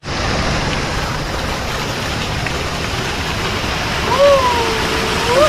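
A waterfall in the Himalayan mountains beside a road makes a steady broadband rush of falling water, loud and close throughout, with a faint whistle-like tone near the end.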